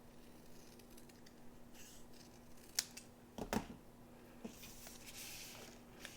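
Craft snips trim around a paper sentiment, giving a few quiet, crisp snips spaced apart against faint background hum, with no talk.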